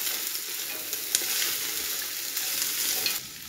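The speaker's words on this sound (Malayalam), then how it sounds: "നല്ലതുപോലെ സവാളയും ഈ ക്യാരറ്റും കൂടെ വഴറ്റിയെടുക്കാം." Sliced onion and carrot sauté in a pan, a steady close sizzle punctuated by a few sharp scrapes of a spatula, easing slightly near the end, with no voices.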